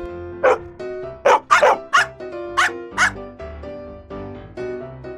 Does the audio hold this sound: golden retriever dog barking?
yes